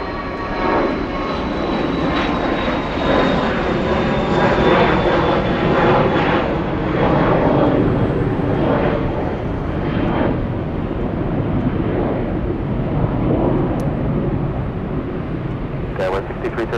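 A NetJets Cessna Citation Latitude business jet takes off at LAX, its engine roar loud and steady for the whole stretch with a slowly shifting whine, while a voice speaks over it and radio chatter comes through.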